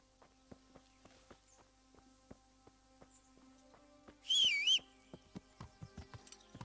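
Short rising-and-falling whistle calling the horse Pebbles in Kingdom Come: Deliverance, heard once over steady clopping hoofbeats and footsteps.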